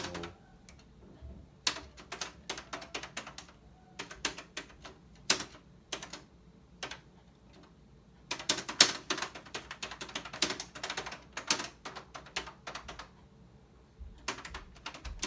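Keys clatter on an old Brother word processor keyboard, bursts of quick clicky typing separated by pauses, growing denser and faster in the second half, close and fairly quiet.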